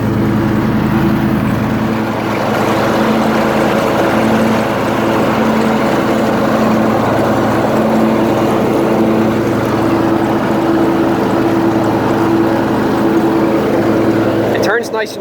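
A John Deere LX188 lawn tractor drones steadily and loudly up close while mowing a lawn, its engine holding an even hum throughout with only slight swells in pitch.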